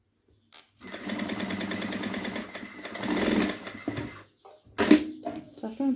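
A sewing machine stitching a kitchen curtain runs in a steady close whirring burst for about three seconds, then stops, followed by brief handling noises while someone talks.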